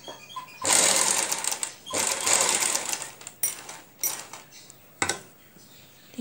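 A sewing machine stitches along a garment neckline in several quick bursts, a close, rattling whir that starts and stops in short runs, with brief pauses and light handling clicks between them.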